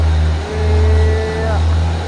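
Cars overtake a Hino 500 truck on a hilly road, a loud close engine drone swelling and fading twice as vehicles pass, with a voice speaking over it.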